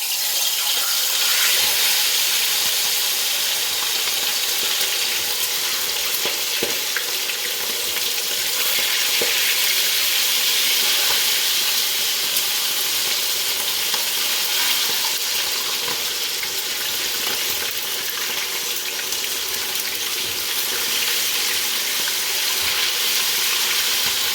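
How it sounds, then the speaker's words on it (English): Chicken pieces marinated in soya sauce frying in hot oil in a pot, a loud, steady crackling sizzle with scattered pops and spatters throughout, no talking. "So I'm going to start placing them in the pot now to fry."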